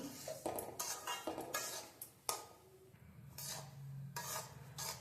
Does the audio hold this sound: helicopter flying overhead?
no